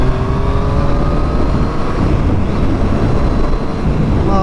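Triumph Street Triple 765R motorcycle engine running loud and steady with a sustained revving drone, slight pitch rises near the end, no talk.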